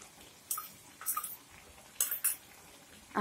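Spices stirred into chicken in a pan give a few brief metallic scrapes and clinks of a utensil against the pan, spaced apart over low background noise, with no talking.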